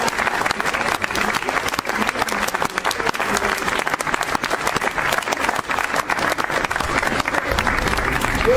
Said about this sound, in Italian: concludiamo questa cerimonia dedicando a tutti i nostri soldati un caloroso applauso